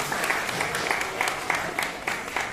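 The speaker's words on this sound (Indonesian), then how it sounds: "Tepuk tangan semuanya." Middle school students in a classroom clap in a fairly regular rhythm, a short burst of applause with a few voices mixed in.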